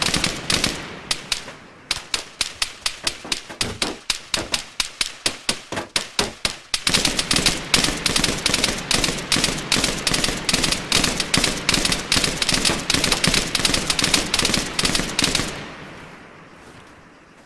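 Arma 3 machine gun fire rips in long sustained bursts, rapid evenly spaced loud cracks starting in short volleys and then running continuously for many seconds before stopping and leaving a fading echo.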